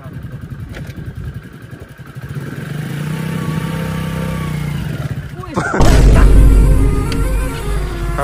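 A motorbike is ridden by a learner, its engine idling and revving steadily under people talking, then a sudden loud surge and rumble as it pulls away close by.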